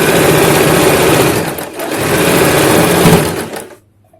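A sewing machine runs at speed stitching a straight salwar, a loud, close, continuous whir with a short dip midway, then stops abruptly near the end.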